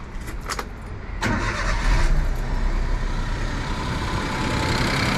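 A Suzuki Jimny engine fitted with a Blitz blow-off valve kit cranks and catches at about one second, then settles into a steady, fairly loud idle running alone to the end.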